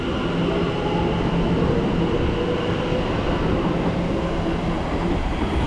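A Class 710 electric train pulls away at South Kenton beside the West Coast Main Line, a steady, close rumbling roar of wheels and motors that holds level throughout, with no voices.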